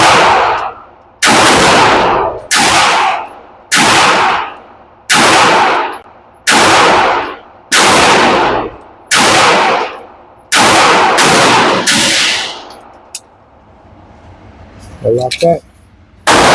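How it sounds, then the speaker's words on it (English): Shots ring out at a shooting range, about a dozen sharp loud reports in a steady rhythm roughly one per second, followed by a quieter gap and a few clanks, with someone talking briefly. "Shooting pretty good."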